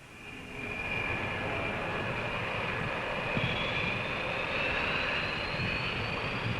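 A 1960s military jet aircraft starting up on an aircraft carrier deck, a steady loud engine roar with a rising turbine whine building from a quiet start, no talk.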